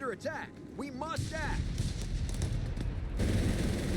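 Company of Heroes 3 battlefield with Wehrmacht and US forces, including mortar fire against pioneers: dense, distant rattling gunfire and thuds mixed with game voices. A commentator talks over it and the fire grows heavier toward the end.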